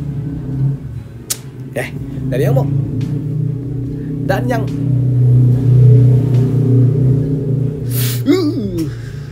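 A motorbike engine idles with a low steady rumble, punctuated by a few short rising revs through the exhaust (knalpot); no clear talk.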